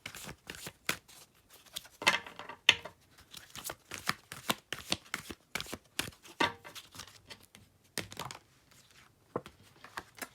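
Quick riffles and snaps of a guardian angel card deck being shuffled by hand, close and crisp, in uneven bursts with short pauses between them.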